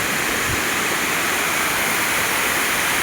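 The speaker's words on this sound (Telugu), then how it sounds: "అదిగోండి వాటర్ ఫాల్స్ ఎంత బాగుంది చూడండి." Kothapalli waterfall at Paderu roars as a loud, dense, unbroken rush of falling water, close and steady for the whole stretch with no voices.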